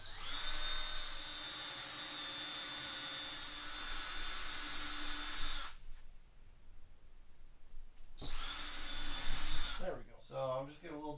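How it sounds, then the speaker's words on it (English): A power drill bores holes into wooden blocks for a tie rack, its steady high whine running loud and close for several seconds, then stopping, restarting briefly, and ending as a person starts talking. "Let's get 19 more holes drilled here."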